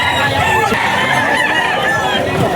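Roosters crowing and clucking among gamefowl at a rainy pet market in Bocaue, a dense, loud chorus of birds close by with a voice faintly underneath.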